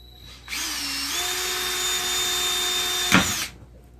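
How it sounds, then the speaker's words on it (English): A power drill spins up and whines steadily for about three seconds, with a brief crunch of the bit biting into wood before it stops. "I'm going to go ahead and just drill where I think it needs some support."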